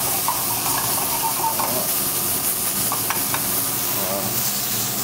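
Scallops (Saint-Jacques) searing in a hot pan give a steady, close sizzle with occasional stirring and scraping, broadband and continuous throughout, with no talking.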